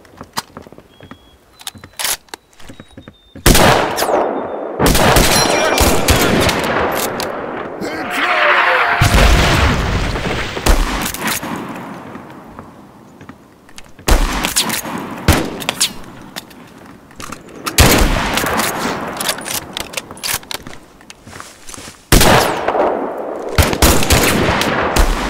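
Gunfire and explosions in the war game Mud and Blood, with rapid machine-gun bursts and heavy booms coming in loud, dense waves separated by brief lulls, while voices talk during the fighting.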